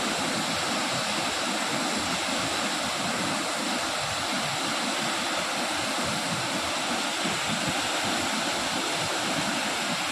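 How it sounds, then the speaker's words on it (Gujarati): Jamjir waterfall at Jamvala in Gir roars as a steady, loud, broadband rush of falling water that fills the whole stretch without pause and with no voices. "જો આ ધોધ છે,"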